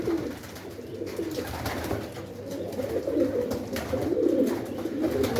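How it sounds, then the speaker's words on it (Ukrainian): Several pigeons coo steadily in low, throaty rolling calls, overlapping close by with a soft background hum. "птиця гудить"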